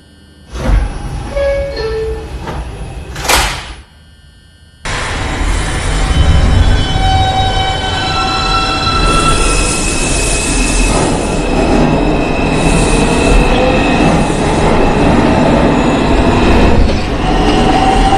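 An R142 IRT 5 subway train on the Brooklyn line: after a few seconds of quieter station sounds with a brief squeal, the train runs loudly and steadily on the rails, a close, continuous roar with high wheel squeal layered on top.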